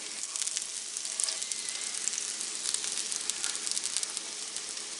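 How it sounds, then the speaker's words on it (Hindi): Crispy potato-filled tacos frying in oil in a pan, a steady, close, bright sizzle and crackle that holds evenly throughout with no talking. "इनको कुछ देर ऐसे पकड़ के रखें, ये नीचे से भी जो है कुक हो जाए,"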